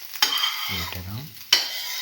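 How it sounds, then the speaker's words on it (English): French toast soaked in a chili, egg and cinnamon mixture fries in a pan with a close, steady sizzle and a couple of sharp clinks at the start and near the end. "Let it fry."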